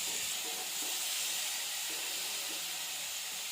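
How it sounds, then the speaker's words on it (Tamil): Chopped tomatoes sauté in a pan for goat trotter curry, giving a steady soft sizzle and hiss, close and unbroken throughout. "நல்லா வதங்கட்டும்."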